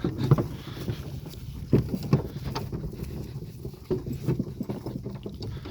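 Rhythmic clopping of a draft mare's hooves at a steady trot, moderately close, with creaks and rattles and a low rumbling background.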